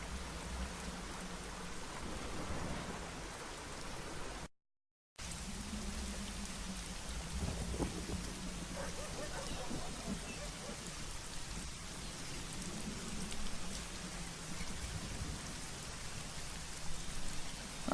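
Heavy rain pours steadily in a Secret Files: Tunguska game scene set in Ireland, a dense hiss of drops on surfaces with a low thunder rumble beneath, briefly cutting to silence near the middle.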